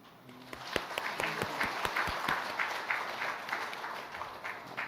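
A church congregation applauds an award recipient honored for devotion to her elderly mother, with steady, moderately loud clapping from many hands carrying through the hall, while a faint voice and tones sound underneath.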